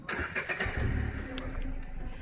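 A motorcycle engine arriving on a rural road near Maharajganj: a mid-pitched motor rumble that builds and fluctuates over a couple of seconds, close and fairly loud, with no talking.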